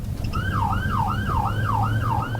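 Police cruiser siren wailing in a steady up-and-down sweep, loud and close over a low engine rumble, repeating about every half second.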